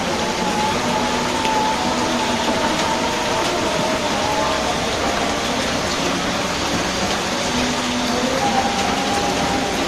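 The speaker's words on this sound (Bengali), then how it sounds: "খুব বৃষ্টি আছে" Steady, dense rainfall in a Bangladeshi village fills the whole stretch, a constant broadband hiss with a low rumble underneath and no voices.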